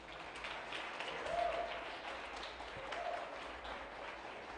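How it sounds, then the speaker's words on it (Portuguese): A church conference audience applauds together, a steady wash of many hands clapping that swells slightly midway and holds at moderate loudness, with no voices standing out. "Aplauda mais uma vez, queridos."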